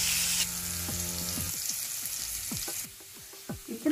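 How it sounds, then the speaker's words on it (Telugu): Chopped onion frying in a pan for gongura chutney gives a steady, close sizzle, with a spoon clinking and scraping against the pan as it is stirred. No one speaks. "ఒక ఆనియన్ కట్ చేసి పెట్టుకున్న ఆనియన్ కొంచెం కలర్ వచ్చేంత వరకు"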